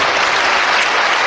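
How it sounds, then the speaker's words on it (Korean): Warm applause from a comedy show audience for Kang Won-rae, a thick, continuous wash of clapping from a large crowd, loud and unbroken throughout. "강원래 씨에게 다시 한번 뜨거운 박수 부탁드립니다"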